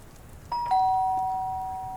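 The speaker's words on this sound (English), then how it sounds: "It's going to be a doorbell job again, Meredith." A doorbell rings in the video game Lake: a clean two-tone electronic ding-dong chime over faint background hum, with the second tone ringing on and slowly fading.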